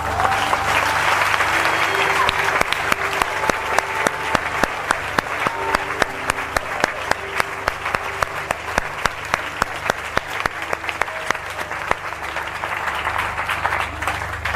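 A church congregation applauds steadily and loudly throughout, a dense wash of clapping with a few sharper claps standing out and faint voices calling beneath.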